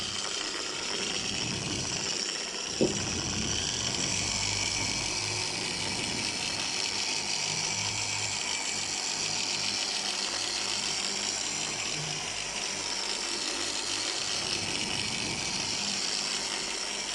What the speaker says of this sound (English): pop down a paint cleanser with your DA polisher